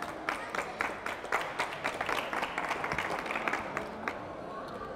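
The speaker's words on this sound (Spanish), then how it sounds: "Un aplauso." Audience at a World Psoriasis Day event applauds, many close hand claps in a brisk, steady patter that thins out near the end, with no talk over it.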